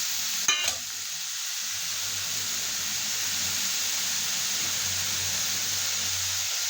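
Tomatoes added to a pan for ridge gourd curry fry with a steady, close sizzle that runs throughout, after a brief clatter near the start as they go in.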